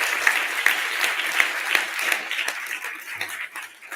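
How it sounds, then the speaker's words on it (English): An audience at an inauguration ceremony claps steadily. The applause is dense and sustained throughout, with scattered individual claps standing out, and it thins slightly toward the end. "Let's have another round of applause."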